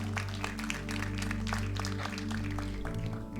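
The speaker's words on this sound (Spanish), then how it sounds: "Denle un fuerte aplauso a Cristo por eso" A church congregation applauds in a dense, steady wash of clapping for several seconds, underlaid by sustained musical tones.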